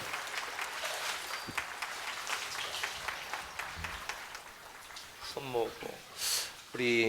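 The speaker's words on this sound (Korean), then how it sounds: "큰 박수 보내주세요." A church congregation claps steadily in a broad wash of applause after a baptism, with a voice briefly speaking near the end.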